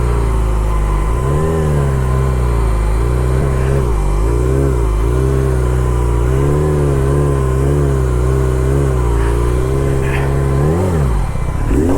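A Harley motorcycle engine runs steadily in a parking lot during handbrake riding practice, a loud, close, deep rumble that rises and falls with throttle blips, then revs sharply near the end.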